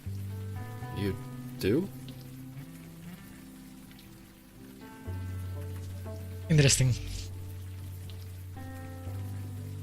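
Steady rain falls in the adventure game Unavowed as a constant soft patter under background music, while characters talk briefly over it.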